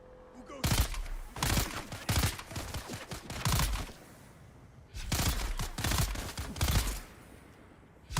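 Bursts of gunfire in the video game Dune: Awakening, clustered volleys of rapid shots in two main bouts separated by a brief lull, loud and close.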